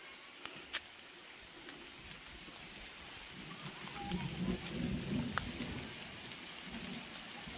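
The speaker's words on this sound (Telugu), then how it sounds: "వర్షం పడుతుంది చూడండి." Light rain falls in a tribal village set in dense forest, a faint soft patter with a few sharper drips and a slightly fuller stretch midway, no voices.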